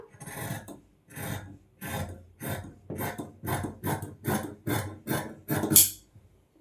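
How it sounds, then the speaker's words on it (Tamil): Fabric for a blouse is cut with scissors in a string of about eleven evenly spaced, crisp rasping snips close up, each a short burst with brief quiet gaps between, ending after the last cut. "பட்டியை முதல்ல கட் பண்ணிடலாம்"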